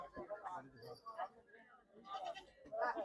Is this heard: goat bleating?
yes